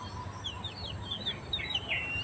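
Backyard chickens cluck and chirp in short, scattered calls over a steady low rumble, several birds close by with no talk.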